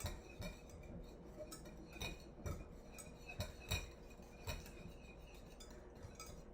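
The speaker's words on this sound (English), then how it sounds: "And now I'm just gonna whisk this all up." A whisk clinks rapidly against a bowl while mixing a ginger beef marinade. The quiet, close metallic taps come in an uneven rhythm over a soft background hum.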